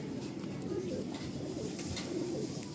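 Mawali pigeons coo repeatedly, soft low rolling calls close by, over a steady background murmur.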